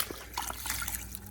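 Water drains out of a GORUCK MACV-1 boot as it is tipped and dumped, a faint, brief trickle and dribble of liquid, close by with no talking.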